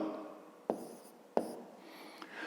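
Handwriting in a school maths notebook: soft scratching of pen on paper with a couple of sharp taps, quiet and close.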